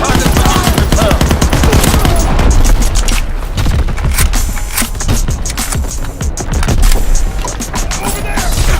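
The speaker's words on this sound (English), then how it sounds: "Firing battery 1. Target position confirmed." Loud, dense battle din from an artillery battery firing at Pointe du Hoc in the Call of Duty WWII beta team deathmatch, with continuous booms and rattling fire filling the scene and shouted game voices mixed in.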